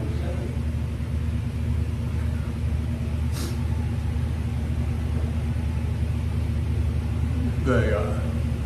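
A long-haul tanker truck's engine rumbles steadily while driving at speed, a loud constant low drone filling the cab with a faint brief clatter now and then.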